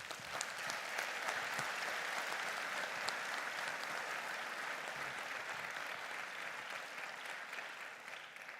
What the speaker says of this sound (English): give them a hand of clap